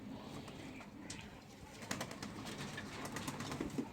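Pigeons in a pigeon loft give soft, low cooing calls amid rustling and faint scattered noises, with a few louder clicks and flutters later, fairly close and without talk.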